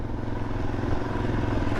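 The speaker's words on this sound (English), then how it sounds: "Off-road on the DRZ 400 for the first time." Suzuki DR-Z 400 motorcycle riding off-road, its single-cylinder engine holding a loud, steady rumbling drone heard close up from the rider's seat, with wind buffeting over it.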